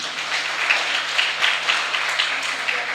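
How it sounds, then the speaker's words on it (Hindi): Applause from a school audience at a Vedic speech competition for students, steady scattered clapping throughout at moderate distance with a faint voice beneath. "ज़ोरदार तालियां।"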